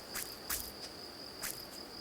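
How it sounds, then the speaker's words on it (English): Crickets chirping at night in the farming video game Grimshire: a faint, steady high-pitched trill with a few louder chirps at intervals over a quiet background hiss. "Oh no, crickets are coming out."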